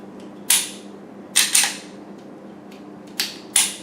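A Walther P99-family pistol's slide is racked and released, producing four or five sharp, close metallic clacks spaced unevenly across a few seconds, with no talking.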